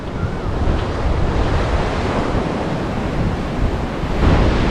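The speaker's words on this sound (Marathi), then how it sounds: "हा पांढरा शुभ्र वाळूचा मस्त समुद्रकिनारा लाभलेला" Surf washing steadily onto a white sand beach on the Konkan coast at Devbag near Malvan, a continuous loud roar of breaking waves mixed with wind buffeting the microphone, rising slightly toward the end.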